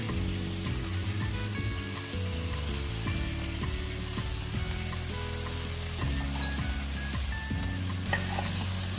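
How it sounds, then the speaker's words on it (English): Lamb trotters fry and are stirred in a pan with ginger garlic paste, a steady close sizzle with scraping stir strokes throughout, and no talking. "Mix all the ingredients thoroughly and fry for a while."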